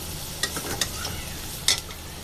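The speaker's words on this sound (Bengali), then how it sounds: "একটু হলুদ মরিচের গুঁড়াটা তেলে ভেজে নেব।" Turmeric and chili powder fry in hot oil over browned onions, stirred with a utensil. A soft, steady sizzle is broken by a few sharp scraping clicks against the pan.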